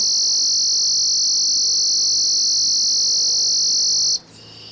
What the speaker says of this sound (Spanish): Otro sonido electrónico.